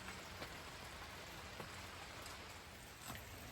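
Steady rain falls on a rainy day with constant broadband hiss and occasional louder drop impacts, even and moderately faint, with no voices.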